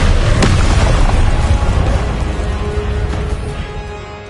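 Confringo explosive spell blast in Hogwarts Legacy, a loud booming burst with crackling debris that slowly decays over several seconds.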